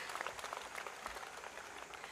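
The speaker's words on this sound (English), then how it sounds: "We're clapping now." Graduates at a 2022 convocation ceremony clapping together, a steady wash of many hands applauding at a distance, fairly faint and continuous with no voices over it.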